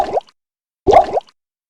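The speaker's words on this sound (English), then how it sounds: "the potion sound on Diablo." Bubbling potion-drinking effect from the Diablo video game, heard as two short, loud gurgling plops about 0.7 seconds apart, each with a quick liquid glug, alone with silence between them.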